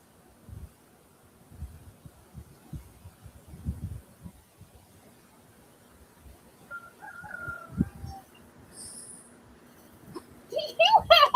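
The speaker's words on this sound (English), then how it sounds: "I could have just thought I heard some kind of chicken or rooster." A neighbor's rooster crows faintly in the distance, a short tonal call partly buried under background noise and thumps, with brief high chirps near the end.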